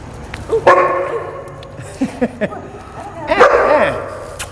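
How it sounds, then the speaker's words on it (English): A dog barks several times nearby, short sharp woofs scattered through the clip, with some whining yips between them. "He's barking and he's attracted to."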